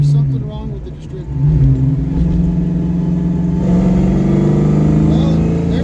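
A carbureted car engine with distributor trouble pulls at full throttle in third gear, building from a low idle into a loud, sustained, rising roar up close.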